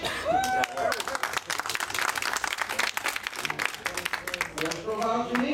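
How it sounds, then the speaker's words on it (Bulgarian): Audience applause at an awards ceremony with placings announced in Bulgarian: steady, dense clapping close by, with a voice speaking over it at the start and again near the end. "Аплодисменти за него."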